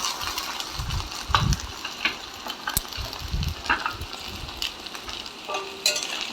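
Chili powder, ginger garlic paste and green chilies are fried and stirred in a pan, making a steady hissing sizzle with repeated, close scraping strokes of the spatula at an uneven rhythm.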